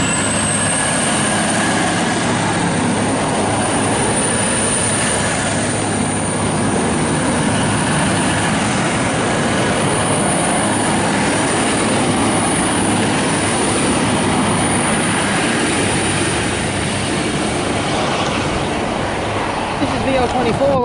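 A V/Line VL24 train arrives at a station platform, its broad, steady rumble and rail noise filling the scene continuously and loudly, with people talking faintly in the background.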